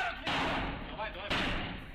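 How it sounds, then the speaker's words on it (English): A soldier breaks a door's hinges while breaching it during a Lithuanian Army exercise: two heavy, loud slamming impacts about a second apart, with talk running over them. "Oh, he's breaking up the hinges right now."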